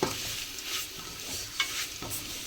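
A horse gram spice mixture for kollu rasam sautés in oil in a pan, making a soft continuous sizzle broken by a few brushing stir strokes.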